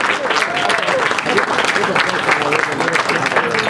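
Wedding guests applaud the matron of honor, a dense, steady wash of clapping that fills the room throughout, with a few voices mixed into the crowd noise.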